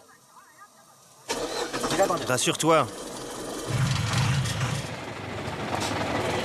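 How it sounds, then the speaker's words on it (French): A boat motor on a river in China starts up with a sharp mechanical burst after a quiet stretch, then settles into a steady running drone, with a short spoken remark over the start. "quand il lance son moteur"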